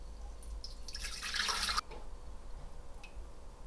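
Water, 550 grams, pours into the bowl of a Thermomix TM6 as the first ingredient for Portuguese bread. A short splashing stream lasts about a second, then gives way to a few faint drips in a quiet kitchen.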